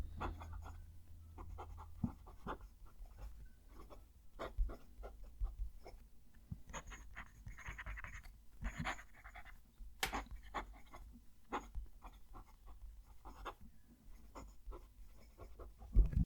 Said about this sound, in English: Going to move the mic down to the page so you can hear the pen write